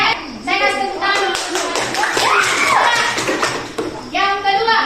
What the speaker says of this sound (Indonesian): Saya kasih tepuk tangan.